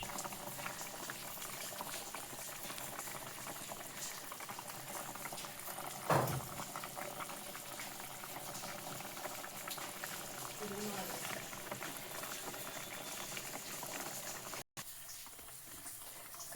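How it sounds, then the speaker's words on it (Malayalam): Netholi (anchovy) curry simmers in a pot with a steady, low bubbling boil. The sound is faint and continuous, with one sharper pop midway. "കറി നന്നായിട്ട് തിളച്ചിട്ടുണ്ട്."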